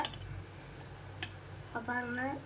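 A spoon scrapes and clinks a few times inside a pot of boiling herbal decoction, faint and close, with a brief tonal sound near the end.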